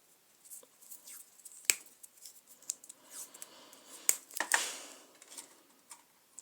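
Tape is pulled and torn to hold down parts while soldering an amplifier circuit, giving sharp crackling rips and snaps scattered over a few quiet seconds, close and soft.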